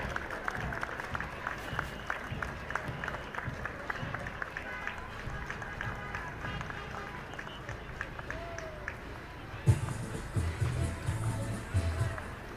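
Outdoor crowd at the Sligo St Patrick's Day parade gives scattered applause and cheers amid street bustle, with talk mixed in and a sharp louder burst of clapping near the end.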